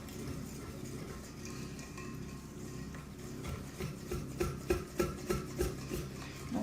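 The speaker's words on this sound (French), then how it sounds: "Donc là, on mélange." Flour is mixed into batter in a bowl, starting as a soft, steady rubbing and turning into a run of quicker scraping strokes near the end, close and fairly quiet, with no one talking.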